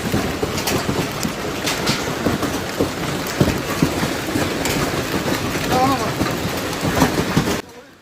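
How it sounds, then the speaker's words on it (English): Large hailstones pelt down during a historic hailstorm in Beijing, a dense, loud, continuous clatter and roar with sharp impacts throughout, like heavy rain drumming on hard surfaces, cutting off abruptly near the end. "大冰雹。"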